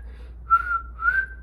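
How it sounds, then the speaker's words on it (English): A person whistles two short, clear rising notes close by, separated by a brief pause, over a quiet low background hum. "Can you whistle?"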